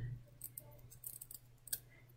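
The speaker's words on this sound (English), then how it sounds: "I hold up the lace and use the scissors and the weight of the hair to keep it taut." Scissors snip through wig lace that is held up and kept taut by the weight of the hair, giving a few faint, close clicks and cuts in a quiet room.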